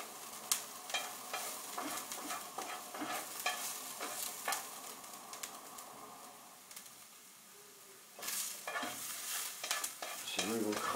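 Onions fry in a pan with a continuous close sizzle, broken by frequent scraping and stirring strokes of a utensil, briefly quieter before stirring picks up again.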